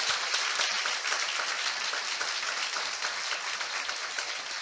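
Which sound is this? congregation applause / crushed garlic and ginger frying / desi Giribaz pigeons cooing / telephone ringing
congregation applause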